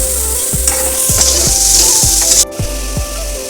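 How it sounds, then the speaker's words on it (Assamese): Coriander powder frying in a pan while being stirred for homemade dal, a steady loud sizzle with rhythmic scraping strokes of the spoon roughly every half second. "তাৰপিছত ধনিয়া গুড়ি দিম। ভালদৰে ইয়াক লৰাই অকণমান হ'বলৈ দিম।"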